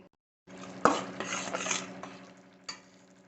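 A spoon stirs dark jaggery melting in a pan on a stove for bobbatlu, making soft continuous scraping with a few sharper clinks against the metal, close and quiet.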